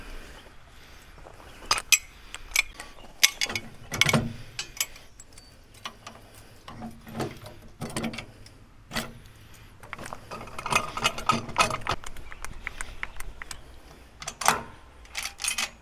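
Metal parts of a trailer jack clank and tick as the jack is fitted onto an ATV hitch, with scattered sharp clicks and knocks in an irregular rhythm, close and moderately loud, with no one talking.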